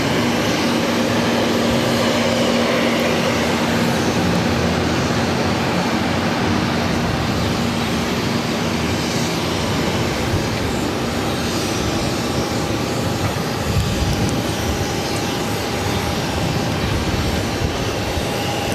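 An Airbus A320neo jet departs Boston Logan on runway 22, a continuous loud engine roar with a faint steady whine, holding level throughout with no talk over it.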